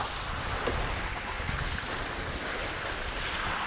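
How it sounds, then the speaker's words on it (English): A sailing boat pitching in waves from an incoming ferry, with broad steady wind and water noise, wind buffeting the microphone, and waves sloshing close against the hull throughout. "These waves from the ferry that we've got coming in are making the boat pitch"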